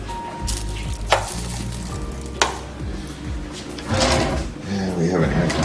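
A hotel room drawer slides open and shut with sharp knocks, two distinct bangs followed by rattling movement, while someone talks.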